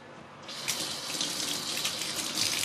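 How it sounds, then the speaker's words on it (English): Tap water runs steadily into a sink for hand washing during belacan chicken prep, starting softer then rising to a full, continuous splashing stream, close and alone without talk. "Let me wash my hand."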